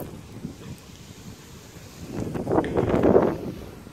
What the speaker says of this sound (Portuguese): Tá ventando bastante.